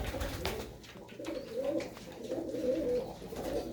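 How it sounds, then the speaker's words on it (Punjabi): Blue pigeons in a loft coo repeatedly, soft throaty calls rising and falling up close. A low background hum runs beneath, and nobody speaks. "ਕਬੂਤਰਾਂ ਦੇ ਵਜੂਦ ਬਹੁਤ ਹੀ ਸੋਹਣੇ ਸੋਹਣੇ ਨੇ"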